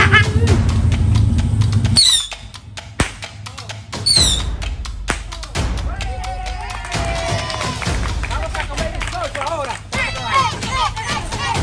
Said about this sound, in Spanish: aquí vamos nosotros a explotar los tiros navideños.